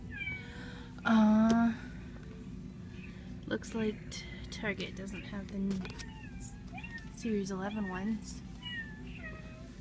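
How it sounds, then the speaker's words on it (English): Cats meow and yowl inside a Target store, a series of loud nearby wails and shorter cries scattered through the stretch while a person talks over them. "the cats are going crazy behind me."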